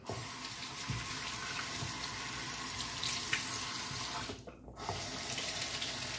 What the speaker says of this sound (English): Better if I use hot water.